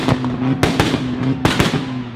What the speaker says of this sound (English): you want some pops, bangs, backfires, get some good crackling going